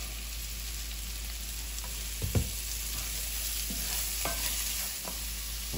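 Mushrooms sautéing in oil with salt in a pot, making a constant close sizzle marked by several brief scraping stirs, with a louder clatter midway and no speech.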